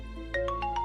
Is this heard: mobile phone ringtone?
yes